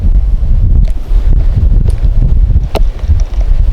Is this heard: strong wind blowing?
yes